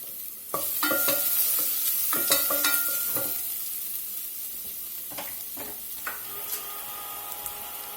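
Garlic and onions sizzle steadily in a hot pan while a utensil stirs them, scraping and clacking in short bursts, close and fairly loud, with no one talking.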